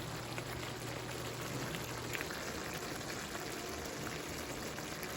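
Water in a pot heating on the stove for beef meatballs, a faint steady hiss and bubbling texture with a low hum underneath.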